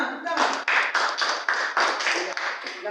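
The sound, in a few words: applause after a class presentation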